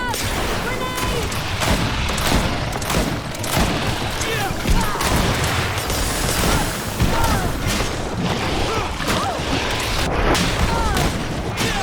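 A grenade goes off in a Greedfall battle: heavy booms and rapid gunfire-like cracks pile up into a loud, dense, continuous din with no pause.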